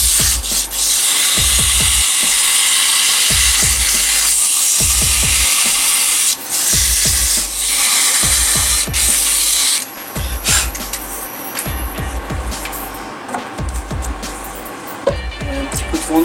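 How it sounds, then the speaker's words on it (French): Sanding a liquidambar wood nutcracker base: loud, steady abrasive rubbing in repeated back-and-forth strokes, close up, with short pauses between passes and no talking. "On va pouvoir poncer ça."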